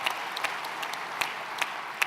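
An audience applauds Patrick at a French business gathering of general insurance agents, a thin steady patter of clapping with a few sharper, closer claps standing out.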